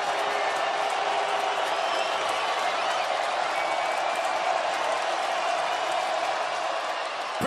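Stadium crowd at an NFL game between the Indianapolis Colts and Tennessee Titans, a dense, steady roar of cheering and noise that stays loud and unbroken from start to finish.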